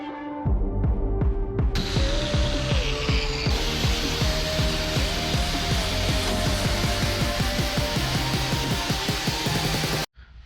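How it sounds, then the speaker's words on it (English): A power tool cuts out a metal cross member from the frame of a Cummins race truck, making a loud, continuous, grinding, whirring drone with shifting pitch for about ten seconds before stopping abruptly. "So we're going to cut that out and move on from there."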